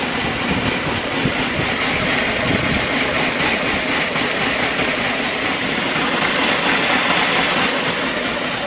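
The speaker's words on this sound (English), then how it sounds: "put my hand over the exhaust if I can, so you can listen to the engine." A 1998 Honda CBR600 motorcycle engine idles steadily and smoothly, close by, with a constant even rumble and hum throughout and no revving.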